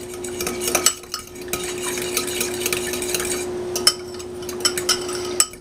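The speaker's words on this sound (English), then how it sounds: "stir this up until the yeast granules dissolve" Yeast granules being stirred into liquid in a bowl for cinnamon roll dough: a steady, close scraping swirl with a few light clinks of the utensil against the bowl, no voices.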